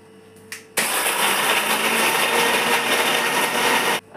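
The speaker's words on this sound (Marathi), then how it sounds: "सर्वात प्रथम आपण बिस्किट मिक्सरला बारीक करून घेऊया। मस्त मिक्सरला बारीक चुरा करून घ्यायचा।" A kitchen mixer grinder whirs loudly for about three seconds as it grinds biscuits into a fine powder. The motor starts abruptly, holds a steady roar and then cuts off.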